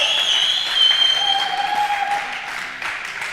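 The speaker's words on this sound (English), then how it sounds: "The claps." Audience applause at a startup pitch night, IE Venture Day in Madrid, a steady wash of clapping lasting a few seconds with a sustained whistle-like tone riding on top.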